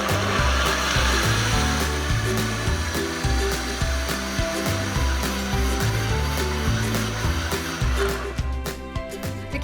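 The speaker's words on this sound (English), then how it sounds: "So you can use a high-speed blender to do that." A high-speed blender whirs through a spinach and banana smoothie, a loud, steady grinding roar with a pulsing rhythm that holds for the whole stretch and eases slightly near the end.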